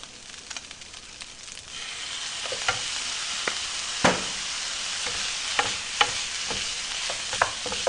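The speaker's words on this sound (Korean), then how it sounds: "볶아주시다가, 자, 마지막 간장." Kimchi fried rice stir-fried in a pan just after soy sauce goes in, giving a steady close sizzle broken by sharp spatula scrapes and clacks against the pan.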